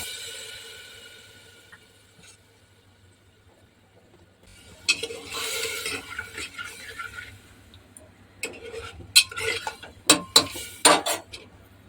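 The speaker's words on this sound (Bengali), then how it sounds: "সেই মুসুরি ডালটা এবার আমি দিয়ে দিচ্ছি।" Washed red lentils tipped into a pan of hot oil and stirred, giving a burst of clattering metal-on-pan scrapes and knocks after a quiet start, growing louder with sharp clinks near the end.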